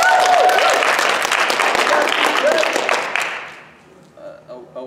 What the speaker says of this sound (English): one more round of applause for the jester.